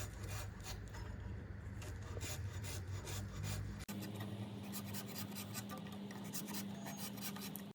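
A knife saws and scrapes through karande (air yam) into thick round slices, a close, steady rasping cut with one sharp click midway as the blade goes through, and no speech.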